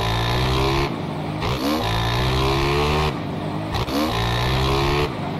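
A motocross bike in MX Bikes screams at high revs, dropping briefly at each gear change before climbing again in repeated rising sweeps, loud and close.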